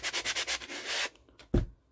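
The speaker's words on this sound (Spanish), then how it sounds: "Voy a lijarla un poquito, por si las moscas." Hand sanding of a wooden box lid, a rapid rhythmic scraping of abrasive paper rubbed back and forth, close and steady for about a second before stopping, followed by a single soft knock.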